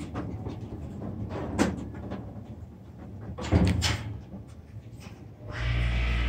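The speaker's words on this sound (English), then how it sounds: "Then we watch doors close." Doors of a modernized hydraulic elevator at an inn in Amherst, Massachusetts sliding closed, a rumbling rattle with thumps, ending in a steady low hum from the car.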